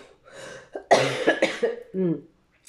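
A person coughs in a few harsh, close bursts, with a throaty clearing sound mixed in.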